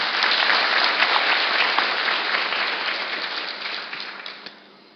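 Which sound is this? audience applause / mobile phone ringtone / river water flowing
audience applause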